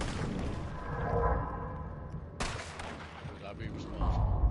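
Gunfire in Red Dead Online cracks out in a few sharp shots, one especially abrupt blast midway, amid a noisy game mix with voices talking.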